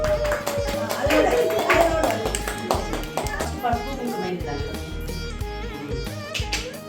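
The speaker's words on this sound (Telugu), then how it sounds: "Claps claps." Hands clap at a family Sankranti celebration at home, a run of sharp claps mixed with voices talking nearby.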